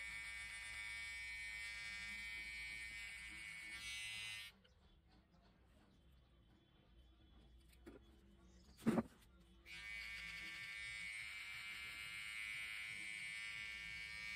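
A VGR electric beard trimmer runs with a steady, high-pitched buzz, switches off for about five seconds with a few quiet clicks, then starts up again and hums evenly to the end.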